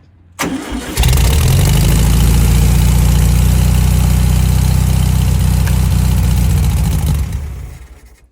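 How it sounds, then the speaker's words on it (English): The air-cooled engine of a 1971 VW Bay Window van cranks and catches, then runs loud and close with a steady chugging rumble for several seconds before fading away. "We do have a motor that's alive."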